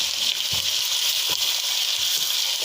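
Meat sizzles in hot oil with garlic-ginger paste for chicken pulao, a loud, steady hiss with occasional soft spatters and stirring knocks.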